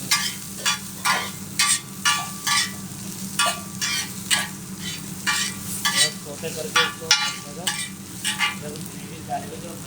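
Red, green, yellow and white vegetables stirred in a pan with whole spices, a continuous frying hiss under a regular rhythm of about two dozen brisk scraping strokes of the spoon, close and clear.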